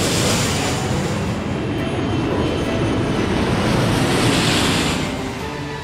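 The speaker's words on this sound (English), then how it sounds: "Camilla, you are cleared for landing for real this time." A cartoon airplane comes in to land, its engine roar a dense, loud rushing wash that holds steady for several seconds and then eases off slightly at the end, with no talking.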